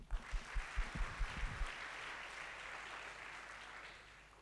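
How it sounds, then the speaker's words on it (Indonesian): A church congregation claps together in a steady rhythmic beat, about eight even claps in a row, then the sound settles into a softer, scattered round of applause that trails off. "Tepuk tangan lebih keras lagi"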